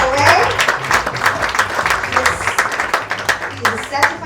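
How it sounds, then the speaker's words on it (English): Lively applause and rhythmic clapping from an audience at an awards ceremony for personal assistants, close and loud with sharp individual claps over a low musical hum. "Please give a hand of applause for the company."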